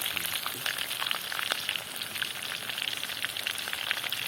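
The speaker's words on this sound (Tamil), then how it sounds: "மண் சட்டியில் எண்ணெய் ஊற்றி பொரிக்கும் போது கொஞ்சம் வித்தியாசமாக தான் இருக்குது" Steady crackling sizzle of mole crab pakoda frying in hot oil in a clay pot, dense bubbling pops throughout, close and fairly loud, no voices.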